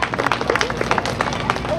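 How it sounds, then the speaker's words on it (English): A crowd at a summer festival dog demonstration claps for Romeo the dog, dense overlapping applause with a general babble of voices throughout. "Let's give a round of applause for Romeo."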